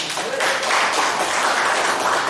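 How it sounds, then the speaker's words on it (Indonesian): A church congregation at GBI Rock Center Medan applauding in a steady, dense wash of clapping that swells after a brief lead-in, with voices mixed in. "Haleluya, kita berikan tepuk tangan."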